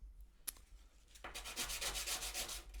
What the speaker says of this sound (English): me sand this whilst talking to you. I hope the sanding is not too loud.